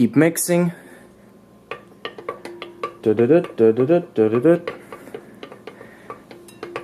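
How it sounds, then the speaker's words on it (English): A spoon works a thick mixture in a bowl, giving intermittent clinks and scrapes against the bowl beneath a person talking. "So we're gonna keep mixing."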